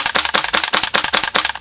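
A WE AK74 gas blowback airsoft rifle fires its last BBs in a rapid burst of sharp, loud, closely spaced mechanical cracks, about a dozen shots in quick rhythm, with no talk.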